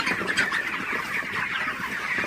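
A dense flock of broiler chickens, about a month old, clucks and chirps continuously at night, many birds overlapping at a steady level with no talking.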